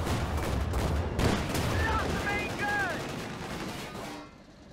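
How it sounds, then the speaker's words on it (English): Rapid, sustained gunfire from a Panzer II and an AA Half-track fighting in Company of Heroes 2, a continuous rattling barrage that fades out at the end, with faint voice fragments underneath. "the Panzer II should win against the AA Half-track"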